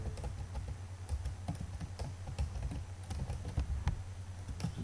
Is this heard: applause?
no